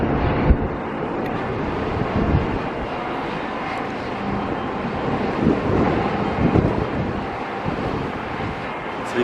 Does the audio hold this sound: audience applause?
no